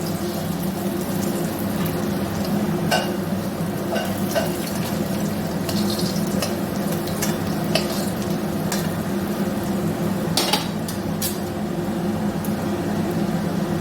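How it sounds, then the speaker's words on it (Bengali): Two dried red chillies and half a spoon of panch phoron fry in hot oil left from frying fish, giving a steady close sizzle broken by small crackles and occasional stirring clicks, with no voices. "এই তেলের মধ্যে দিয়ে দিলাম আমি 2টো শুকনো লঙ্কা আর 1/2 চামচ পাঁচ ফোড়নটা একটু ভাজা ভাজা হয়ে যাবে"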